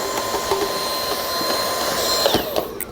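A vacuum cleaner runs over the filter areas of a Blueair air purifier, giving a steady close whirring hum with a thin whine and some shifting tone near the end.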